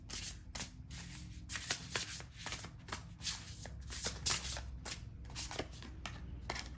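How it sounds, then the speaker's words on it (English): A deck of oracle cards being shuffled up close, rapid riffling bursts repeating in an uneven rhythm, fairly soft with no talking. "let's draw some oracle cards from this deck."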